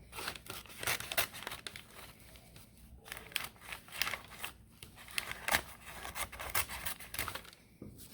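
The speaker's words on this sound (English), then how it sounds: "We're going to go ahead and we're going to cut off this small square right there." Scissors snip through paper while cutting a small square from a paper pizza craft, with repeated crisp cuts and crinkling of the sheet, close and moderately quiet, no talking.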